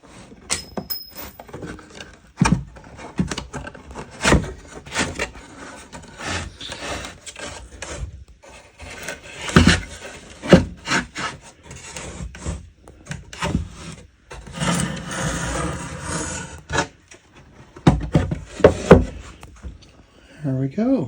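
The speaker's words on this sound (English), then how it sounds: "we can shave off the excess, and it will look like, well, more like a guitar than it has so far" Excess material is shaved off a resonator guitar body in irregular rasping, scraping strokes of varying loudness, close by, with someone talking over much of the work.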